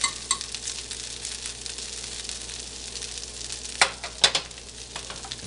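Potatoes frying in a pan for a breakfast frittata, giving a steady soft sizzle with a few sharp crackles and pops near the end, heard alone.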